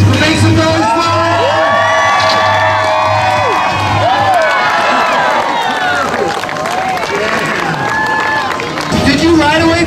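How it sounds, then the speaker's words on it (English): A crowd at an outdoor BMX stunt show in Bentonville, Arkansas, cheers and whoops loudly, with children's high shouts and scattered clapping swelling in a dense roar, while an announcer's amplified voice speaks near the start. "So make some noise for him!"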